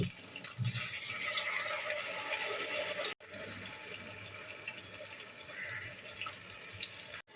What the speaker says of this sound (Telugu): ఒక గ్లాస్ నీళ్లు పోసి